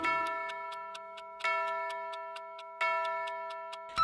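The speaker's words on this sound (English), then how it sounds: "The clock struck three." Clock chimes in a nursery rhyme, three bell-like strikes evenly spaced about 1.4 seconds apart over a soft steady ticking, each ringing tone decaying slowly, moderately quiet with no voices.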